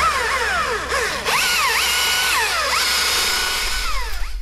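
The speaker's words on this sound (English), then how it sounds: "It was also the first time I got to use the Husqvarna battery saw." Husqvarna battery chainsaw cutting sycamore, a close, loud electric whine that rises and dips repeatedly as the chain loads up in the wood over several short cuts.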